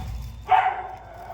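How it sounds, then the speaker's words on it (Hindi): A single short dog bark or yelp from dogs sitting outside a home, sharp and fairly close, after a low background rumble. "कुत्ते बाहर बैठे हैं,"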